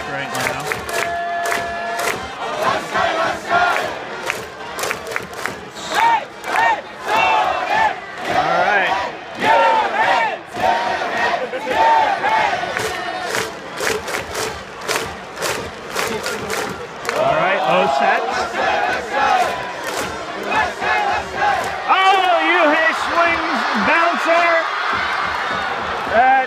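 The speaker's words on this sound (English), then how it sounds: "The crowd is absolutely electric right now." Baseball stadium crowd at Jingu during a Swallows-Tigers game in the bottom of the ninth, cheering loudly and continuously with rhythmic chanting and rising roars, the noise full and close throughout.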